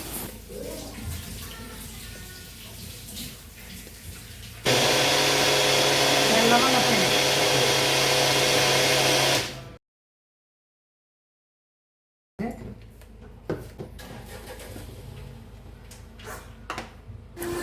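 A mixer blender roars loudly and steadily for about five seconds blending a ragi flour smoothie, then abruptly stops. Quieter talking and kitchen clatter come before and after.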